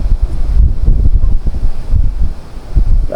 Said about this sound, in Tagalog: Kalakas po ng hangin ay.